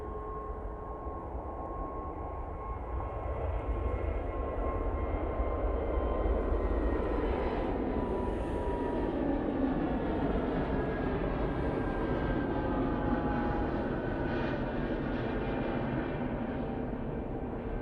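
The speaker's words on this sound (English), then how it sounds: "AVL. EasyJet, now on the roll." An EasyJet Airbus A320neo at Manchester Airport roars through its takeoff roll, a loud, sustained jet-engine rumble with a steady whine that swells slightly and holds throughout, heard from the spotting area.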